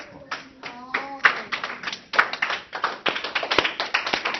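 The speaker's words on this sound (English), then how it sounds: "Why are we clapping again?" Students in an algebra class clap their hands together, a run of sharp, uneven claps that starts out thin and builds into a fuller round, with some voices heard early on.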